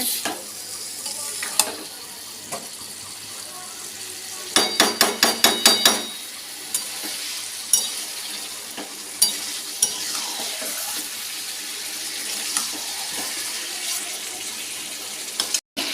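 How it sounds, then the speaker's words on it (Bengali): Chicken and potatoes braise in a pan as a spoon stirs and scrapes through them. A soft sizzle runs underneath, with a quick burst of rapid knocks near the start and sharp clinks of the utensil against the pan every few seconds. "চিকেনটা এখন কষানো হচ্ছে আলু দিয়েছি চিকেনে আলু দিয়ে ঝোল করবো"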